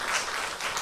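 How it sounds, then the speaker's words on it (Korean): An audience at a university chapel service applauds a church choir. The burst of many hands clapping together is brief, loud and evenly dense, with no talk over it. "우리 다시 한번 감사의 박수"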